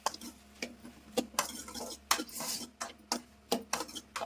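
Mushrooms are sautéed in a pan while a metal spoon stirs them, giving irregular clinks and scrapes against the pan over a soft, low sizzle, close up with no talking.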